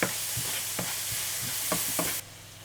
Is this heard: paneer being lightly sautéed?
yes